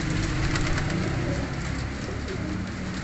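Around seventy pigeons coo steadily nearby in a continuous low, throaty murmur, with a faint wash of rustling in the background.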